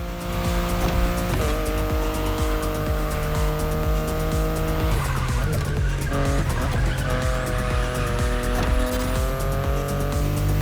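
A BMW i8 driven in The Crew Motorfest racing game, its engine holding a loud, steady drone with tire squeals and skidding layered on top and brief shifts in pitch, with no talking.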